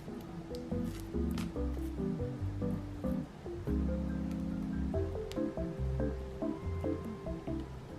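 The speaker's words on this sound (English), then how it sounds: "Now it's time to cut this one open." A giant brain-shaped squishy being cut open, with thick wet squishing and sticky squelching from the filling, close and steady throughout, no voices.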